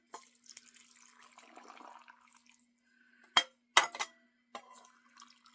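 Ham broth being poured into a glass canning jar, a faint trickle followed by a few sharp glass clinks and brief splashes, close and quiet with no talk.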